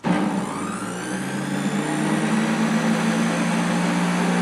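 A low-cost juicer runs on its low speed of 14,000 RPM, giving a steady, continuous motor whine with a constant droning hum that holds unchanged from start to finish.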